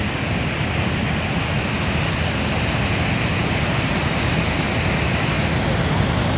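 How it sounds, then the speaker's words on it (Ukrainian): A powerful waterfall at a spectacular scenic spot roars steadily and loudly, a dense unbroken rush of falling water that fills the whole scene without pause. "Ось такий крутий водоспад, круте місце."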